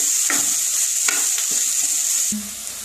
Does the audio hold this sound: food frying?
yes